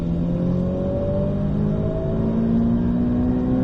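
A Ferrari race car accelerates on the Circuit de Bresse track, its engine note rising steadily and droning loud and close throughout, with no talk over it.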